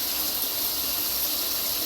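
Hot water streams from a home shower in a constant, dense rush of spray, close and loud throughout with no speech.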